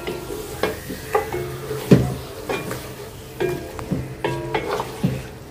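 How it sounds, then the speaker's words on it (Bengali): Chicken sautéed in a pan, with a low sizzle under irregular spatula knocks and scrapes against the pan, a few sharp clanks standing out, close and fairly loud, no talking. "এখন হচ্ছে চিকেনটা ভালো করে কষাবো।"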